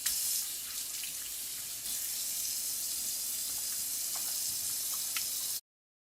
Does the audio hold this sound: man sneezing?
no